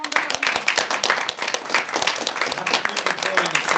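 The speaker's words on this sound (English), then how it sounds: "Give him a lot of round of applause." Audience applause fills a Toastmasters club meeting, a steady, dense wash of many hands clapping for several seconds, close and continuous with no talk over it.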